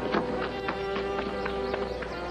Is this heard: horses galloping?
yes